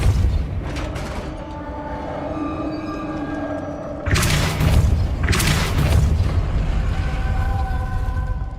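Depulso force spell cast in the Hogwarts Legacy video game, a loud booming blast that swells suddenly and rumbles on for several seconds over a steady game-music backdrop.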